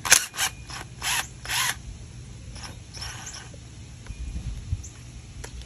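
A ratchet works a 13 mm drain plug on the front differential of a Chevy truck, a few loud close clicking bursts at the start, then quieter ratcheting and light handling noise.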